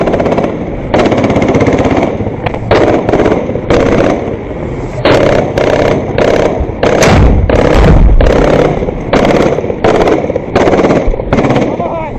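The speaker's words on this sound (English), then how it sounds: "bullspike AIT mortars come into play. They deliver suppressive fire on structural points to prevent the enemy inside from mounting any effective resistance" Mortar blasts and heavy gunfire pound a concrete street during urban combat in the Ukraine war, a loud, dense sequence of repeated bursts and booming impacts that come in rapid clusters, with voices shouting intermittently between them.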